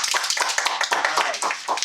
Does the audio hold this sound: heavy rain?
no